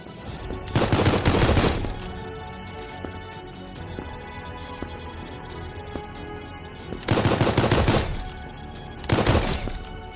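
Semi-automatic weapon fire in the browser shooter Krunker.io on the Kanji map comes in two dense bursts of rapid sharp shots, loud and crackling, separated by quieter in-game ambience.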